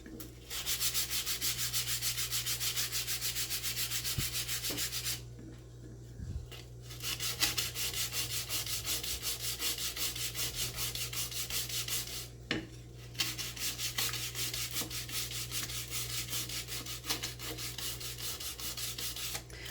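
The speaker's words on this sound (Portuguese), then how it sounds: "Como a lixa já ficou gasta, ó, de um lado, a gente vai dobrando e vamos usando do outro lado." Sandpaper rubbing steadily over a piece of cold porcelain (air-dry clay), a dense continuous scratching with two brief pauses where the paper is lifted, close and fairly loud, with no talking.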